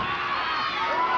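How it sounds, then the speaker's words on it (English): A wrestling arena crowd roars and chants in support of Mr. Hito during a tag-team match, a dense, loud wall of massed voices cheering together. "the crowd chanting for Hito to make a comeback"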